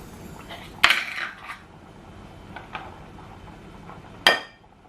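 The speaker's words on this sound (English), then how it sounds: "I'm going to stir it" A pot of egg sauce with tuna, garlic and chili powder being stirred: two sharp metallic clinks of a spoon against the pot a few seconds apart, with quieter scrapes between, close and otherwise calm.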